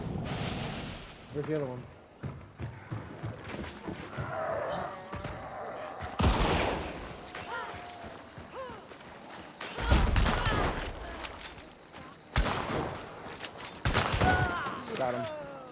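Gunshots ring out in a Hunt: Showdown duos match, sharp cracks and a few heavy booms scattered unevenly across the stretch, some close and loud, with players talking over them.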